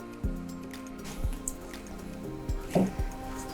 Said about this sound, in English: We can pop in the eggs.